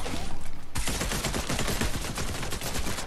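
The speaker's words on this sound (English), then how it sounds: "How is he shooting me?" Rapid, dense shotgun fire from a shotgun-only video game match, a loud continuous barrage of overlapping blasts that jumps sharply in intensity after a brief opening and keeps going without pause.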